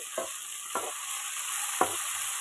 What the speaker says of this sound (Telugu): ఇక నూనెలో తాలింపు గింజలు వేసుకొని కరివేపాకు వేసుకొని